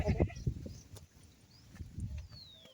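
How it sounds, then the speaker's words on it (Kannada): A goat tethered near a farmhouse by the fields bleats a few times, with a wavering cry at the start and another around the two-second mark, fairly quiet against soft outdoor background noise. "ನಮ್ದು ಆಡ ಇಲ್ಲಿ ಕಟ್ಟಿದ್ದೆವು"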